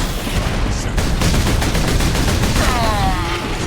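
Loud, dense bursts of rapid enemy gunfire in the Warhammer 40K Space Marine video game, a continuous fusillade close by with a faint voice underneath.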